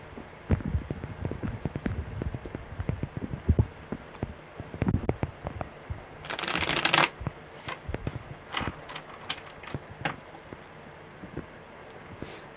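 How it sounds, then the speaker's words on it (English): Tarot cards are shuffled by hand in a run of quick riffles and taps, close and crisp, with one longer dense burst of flicking near the middle and sparser clicks after; no voices. "one more good shuffle."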